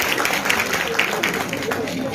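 Brief burst of audience applause in a lecture hall at Comsats Islamabad, a dense wash of clapping from many hands, fairly close and steady, with a voice faintly underneath.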